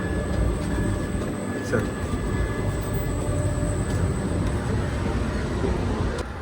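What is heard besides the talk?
inside a moving passenger train near the AC coaches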